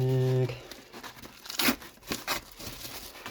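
A plastic packet is torn open and crumpled by hand, giving a few crinkling, tearing bursts close to the mic after a brief tonal hum at the start, with a voice talking faintly around it.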